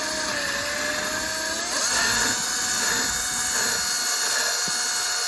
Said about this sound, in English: So drill on reverse, and that bolt will back right out.